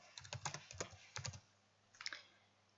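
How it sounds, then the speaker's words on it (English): Computer keyboard keys tapped in quick bursts while a password is entered, several clusters of close, crisp clicks separated by short pauses, with no voices. "and by typing the password"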